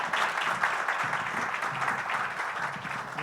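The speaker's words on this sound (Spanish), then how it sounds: "sí, un aplauso a todos los..." Applause from a conference audience at an international district-energy event, steady broadband clapping over roughly three seconds with faint voices mixed in beneath it.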